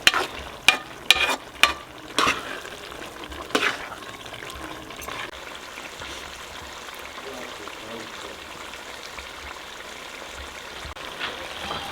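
Chicken gizzards cook in an onion and tomato masala, a soft steady sizzle running throughout, with several sharp spoon clanks against the pot in the first few seconds and a talking voice mixed faintly in the background.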